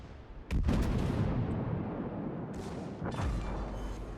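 The rear guns of the Warspite, a British battleship in World of Warships, fire two heavy booming salvos, the first at about half a second and the second near three seconds, each leaving a long rumbling decay with no voices.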